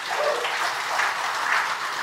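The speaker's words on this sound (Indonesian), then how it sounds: "Tepuk tangan." Crowd applause at a regency ceremony inaugurating newly elected village heads, a continuous even wash of clapping from a sizable audience in a hall, moderately loud and unbroken.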